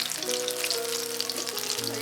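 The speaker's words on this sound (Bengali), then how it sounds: "এবার ভেজে নিচ্ছি পকোড়াগুলো।" Chicken pakoras fry slowly in oil over low heat, giving a dense, even sizzle with crackling pops; a faint tonal hum runs underneath.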